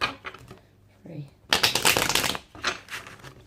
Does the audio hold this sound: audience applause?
no